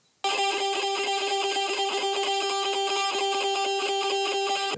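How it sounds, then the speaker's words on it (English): A tremolo electric guitar for a melodic dubstep track plays a steady, bright, rapidly pulsing distorted tone that starts abruptly and holds for several seconds before cutting off, with no voices. "You basically want to add an electric guitar. A tremolo electric guitar basically."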